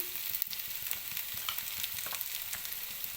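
Sliced okra frying in a pan for palya with turmeric, a steady soft sizzle with light crackles and occasional stirring scrapes, close and alone.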